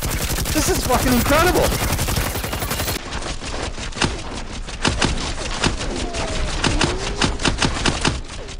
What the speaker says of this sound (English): Man, this mag has a lot of rounds in it. It's not, it's non-stop firing.